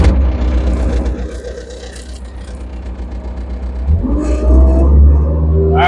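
A Bobcat 331D excavator's diesel engine runs with a deep, loud rumble, dips slightly, then rises as throttle is given near the end.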